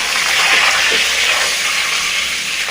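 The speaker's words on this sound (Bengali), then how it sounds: "তেল গরম হলে গোটা গরম মশলা ফোড়ন দিলাম, শুকনো লঙ্কা দিয়েছি, গোটা জিরে ফোড়ন দিলাম, তেজপাতা ফোড়ন দিলাম" Whole garam masala, dried chillies, cumin seeds and bay leaf sizzle in hot oil, a steady, dense hiss that holds evenly from start to finish with no one talking.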